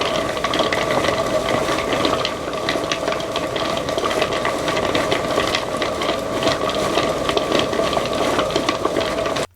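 Dual-barrel rock tumbler holding coarse polishing grit charges, run on a floor, making a steady continuous grinding rumble with rhythmic clattering and rolling of stones, loud and close throughout with no speech.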